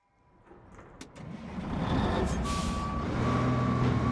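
A truck in RoadCraft starts up and reverses, its engine rumbling louder as a steady, evenly spaced backup beep repeats over the motor, with a brief air-brake hiss near the start.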